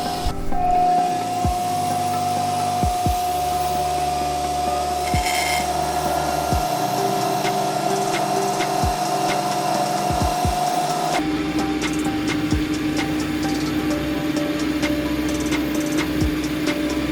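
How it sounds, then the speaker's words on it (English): A wooden pocket tray is shaped and sanded on its outside with a power tool, giving a constant close whir and rasp, with repeated knocks and a shift in pitch partway through. "now it's time to create a foot and then do some sanding on the outside before flipping it around."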